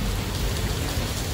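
Steady rain pours down continuously, a dense, even hiss with no breaks or distinct drops standing out, fairly close and alone.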